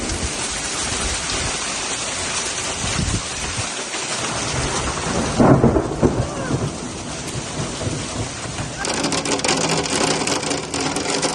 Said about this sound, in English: a hailstorm flung pellets of ice at Serendipity